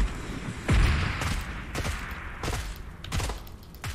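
Several loud, close gunshots from a PUBG Mobile match, each a sharp burst with a deep thump, coming in irregular clusters over a steady background.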